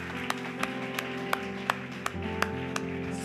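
A church congregation claps in sparse, evenly spaced single claps over sustained keyboard music, each clap sharp but modest against the steady tones.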